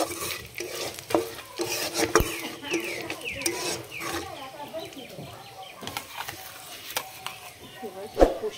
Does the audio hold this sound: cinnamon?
yes